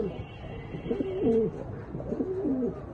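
A black male pigeon coos in repeated rolling phrases, two clear bursts of throaty, warbling calls close by, with faint background murmur.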